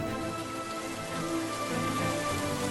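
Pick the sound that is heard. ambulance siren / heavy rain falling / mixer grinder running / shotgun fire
heavy rain falling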